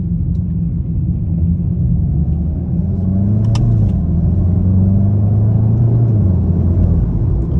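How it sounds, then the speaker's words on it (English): A 2022 Volkswagen GTI with a 7-speed DSG gearbox pulls hard along a multi-lane highway, its engine a steady loud rumble inside the cabin with rising tones as it accelerates, under constant road noise. "we're gonna go find that multiple lane highway and see how this car can accelerate"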